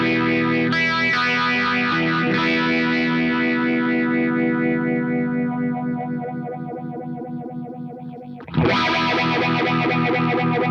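Guitar run through a Beetronics Larva Morphing Phaser pedal, a thick chord swirling with a sweeping phase effect that slowly fades, then a fresh loud strum cuts in near the end; close and alone with no voices.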